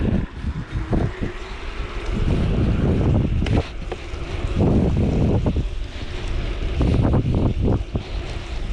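Wind buffets the microphone on a cheap electric bicycle ridden at top speed, a loud continuous roar with gusting surges and low rumbles throughout.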